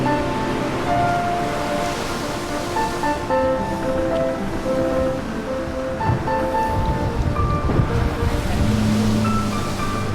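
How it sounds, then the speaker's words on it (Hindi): Huge ocean waves surge and crash around a boat on open water near Migingo island, a loud, constant roaring wash with wind noise and a low rumble throughout, without speech. "यहाँ विशाल लहरें हैं।"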